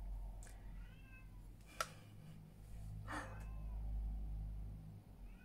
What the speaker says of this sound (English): Sorry if you can hear the cat.